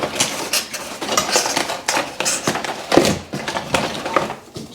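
A Caraway ceramic sauté pan is handled while being unboxed, with metallic clanks and knocks of cookware and lids sounding in quick, irregular succession at close range, with no voices.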